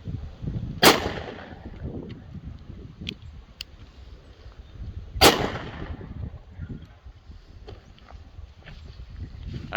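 Two sharp, loud gunshots from a Ducktown derringer loaded with .410 buckshot, fired at about 3 yards outdoors, spaced several seconds apart over faint background noise.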